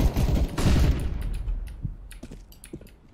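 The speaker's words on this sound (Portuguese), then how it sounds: "O cara tá atirando de mim" Rapid bursts of gunfire in the video game CS:GO, a dense crackling volley up front that thins into scattered shots and faint clicks, with no talking.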